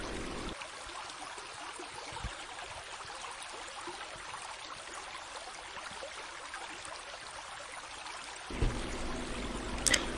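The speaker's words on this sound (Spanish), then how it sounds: "el sonido de una corriente de agua y el sonido del agua al caer sobre las piedras" Continuous rushing water, a stream spilling over stones, steady and full-bodied throughout with a brief louder splash near the end.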